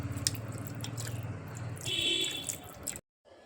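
Clean water trickles and drips over a deity idol during an abhishek ritual, a close, soft splashing with a brief brighter pour before cutting to silence.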